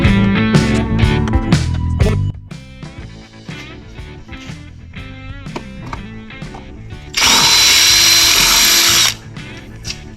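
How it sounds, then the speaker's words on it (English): A power drill whirs loudly in a short burst of about two seconds, drilling out screws on a GMC Crackerbox semi truck with a Detroit 8V-71 engine, preceded by tool clatter and background music. "I'm having to drill out the screws to get the bucket out"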